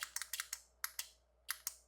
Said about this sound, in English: You can actually hear the relay clicking off.